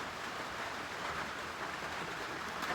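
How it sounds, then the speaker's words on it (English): Heavy rain falling outdoors after a week of steady downpour and flooding, a faint, even wash of noise with no breaks or voices. "You hear that rain? You hear it? This rain been going on for the last week."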